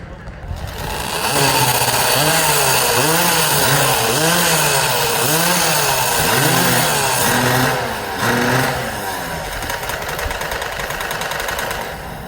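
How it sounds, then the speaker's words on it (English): Custom-built competition chainsaws fire up together at a Paul Bunyan lumberjack event, their engines revving loud and continuous with rising and falling pitch sweeps, a crowd and announcer murmuring beneath. "Both saws started."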